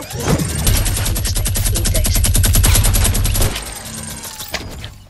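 A minigun in Fortnite fires one dense, rapid, unbroken burst of shots, loud and close, for about three and a half seconds before cutting off into quieter game sounds.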